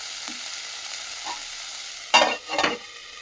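Ridge gourd peel and tomato fry in a pan with a quiet, steady sizzle, broken near the end by two loud, short bursts of stirring and scraping. No talking is heard.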